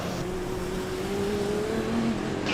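A Formula Student race car from the Aalborg team, its engine noticeably quietened, passes the start-finish line during an endurance event, giving a steady, moderately loud engine drone whose pitch rises slightly as it goes by.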